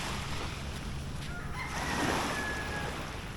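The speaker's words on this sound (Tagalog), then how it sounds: "Tingnan natin yung dagat, yung mga banayad" Gentle sea waves along the coast at Real, Quezon make a soft, continuous wash of surf, steady and moderately faint, with a faint distant tone briefly rising above it.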